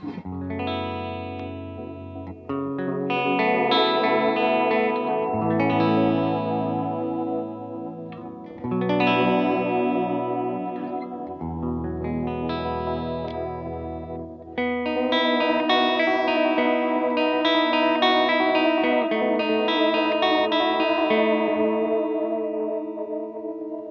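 Electric guitar running through an ambient modulation pedal on an analog boutique pedalboard, sustained chords swelling with lush chorus-like wavering and echo trails, playing alone with no talk.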